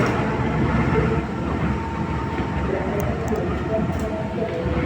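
KA Majapahit passenger train pulling out of Sragen station, heard from on board as a steady, loud rolling rumble of wheels and carriage with no break for the whole stretch.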